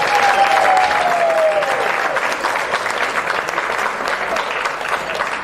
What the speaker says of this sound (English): So everyone, massive applause against Rowan.